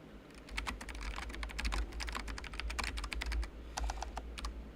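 Steady rapid keystrokes on a computer keyboard during a live coding session, clicking continuously at an even pace, close and fairly quiet, with a low hum underneath and no voices.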